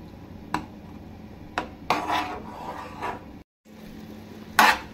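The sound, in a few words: stirring milk halwa with raisins in a pan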